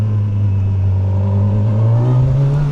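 A 2025 Kawasaki Versys 1100 SE motorcycle climbing a steep street hill, its engine droning in a loud, close, steady hum that rises slightly in pitch as it accelerates, with no talking.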